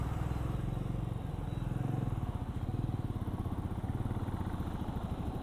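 A Royal Enfield Meteor 350 cruiser motorcycle engine thumps with a steady, rapid pulse, heard close and moderately loud throughout.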